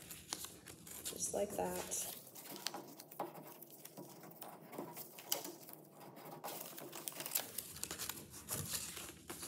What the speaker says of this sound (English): So I'm actually going to fold it inwards on itself.